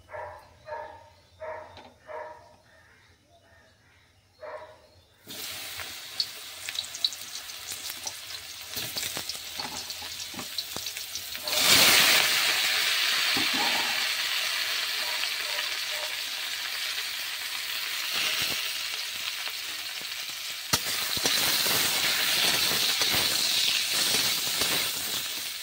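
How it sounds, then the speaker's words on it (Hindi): Chopped mushrooms fry in a pan, a continuous sizzle and hiss that starts abruptly after a few quiet seconds of clatter, swells louder midway with occasional stirring scrapes, and carries on close and steady without talk. "अब टाइम है मशरूम को फ्राई करने का"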